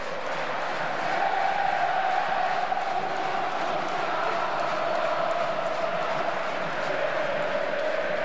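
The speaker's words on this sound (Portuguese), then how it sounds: "A torcida vai à loucura." A stadium crowd at Independência in Belo Horizonte roars over an Atlético-MG penalty against Inter in a 2015 Brasileirão match: a loud, sustained, steady roar of massed voices with no pause.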